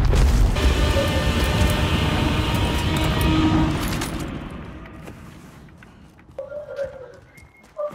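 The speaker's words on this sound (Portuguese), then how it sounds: "Ouvindo barulho de tiro." Gunfire and explosive booms from a Call of Duty: Modern Warfare match, loud and dense for the first few seconds, then fading to quieter distant shots and game effects.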